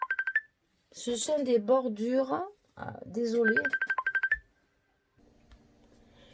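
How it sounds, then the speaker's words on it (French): A mobile phone ringtone sounds as a series of rapid electronic beeps, loud and close, with someone speaking over it between bursts before it stops. "mon téléphone a sonné"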